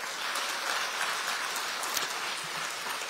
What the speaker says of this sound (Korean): 이분들께도 박수 한번 좀 보내주십시오.